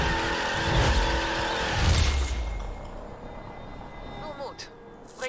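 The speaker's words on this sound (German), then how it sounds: "gewisse Sounds von gewissen Autos haben es hure verkackt in dem Spiel" A car engine revs and tires squeal in the racing game The Crew, the roar loud at first, then fading into quieter engine drone with a faint screech near the end.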